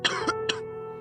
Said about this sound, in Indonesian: Tiba-tiba terdengar suara batuk yang membangunkanku.